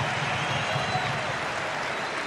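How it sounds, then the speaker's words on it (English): Stadium crowd at an A-League football match between Melbourne Victory and Sydney FC gives a substituted player an ovation, a broad continuous roar of clapping from a distant crowd that holds steady throughout. "listen to the ovation here"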